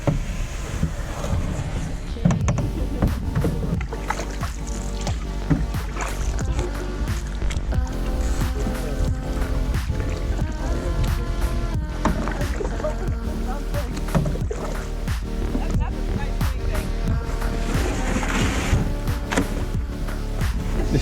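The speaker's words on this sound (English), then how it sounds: "Back to, you guessed it, more paddling." A canoe is paddled on a lake, with continuous water and paddle noise and wind buffeting the microphone throughout.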